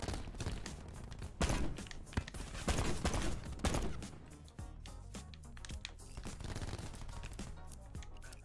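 Revolver fire in a video game firing range, with sharp gunshots cracking out in quick, irregular bursts at close range and several denser volleys through the middle.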